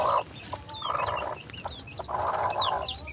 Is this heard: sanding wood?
no